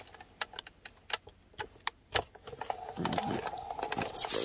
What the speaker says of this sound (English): we're gonna roll it through. And this case, the platform and then one tab is down on the Sizzix Big Shot